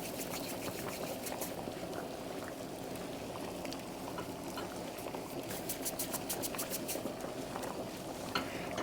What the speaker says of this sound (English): pot is bubbling.